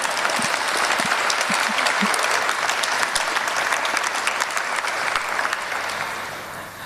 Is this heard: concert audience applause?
yes